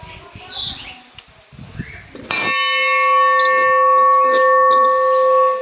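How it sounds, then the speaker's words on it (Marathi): A large bell at a Siddheshwar temple, hanging beyond the big Nandi statue, is struck once partway through, ringing out loudly with a long, steady, shimmering sustain that continues to the end over faint background sounds and birds. "आणि त्यानंतर इथे मोठी घंटा आहे."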